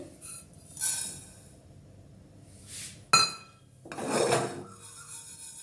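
Poppy seeds and white mustard seeds being dry roasted in a pan, quiet intermittent scraping and rattling strokes as the seeds are stirred, with a sharp clink midway.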